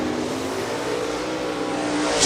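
A modified race car idles and rolls out to qualify at County Line Raceway, its engine a steady, close droning rumble that swells slightly near the end.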